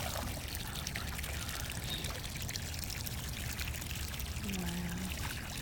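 Water pours steadily from a garden hose outdoors near the water's edge, a continuous close splashing trickle running throughout while manatees drink from it.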